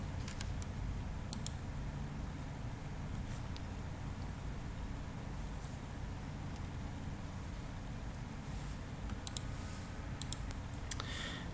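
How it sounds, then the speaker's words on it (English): Mouse clicks on a computer while opening Delphi 2010, a few faint, sharp isolated clicks scattered over a quiet low hum. "You just click on Delphi 2010."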